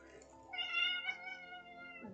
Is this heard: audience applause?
no